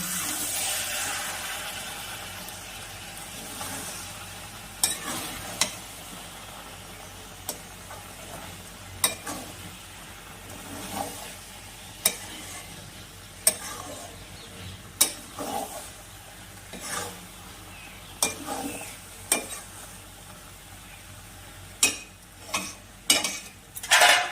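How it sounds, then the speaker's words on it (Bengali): Lote shutki (dried Bombay duck) chorchori is stirred in a pan, with repeated metallic spatula clinks and scrapes at an uneven pace over a soft, steady sizzle. "এবার একবার নাড়াচাড়া করে দিব।"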